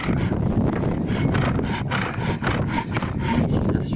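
A hand saw cuts a piece of wood to shorten it during easel restoration work, with rapid, steady back-and-forth rasping strokes that are close and loud, and no talk.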